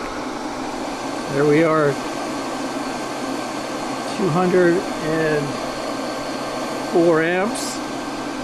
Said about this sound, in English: Now we got a heat gun so we can bring it up in stages.